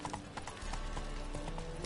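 Horse hooves clip-clopping at a gallop in The Witcher 3 video game, a steady rapid beat close up over a low game soundscape, with a brief whinny-like tone.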